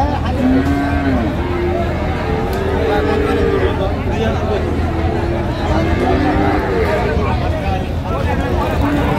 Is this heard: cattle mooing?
yes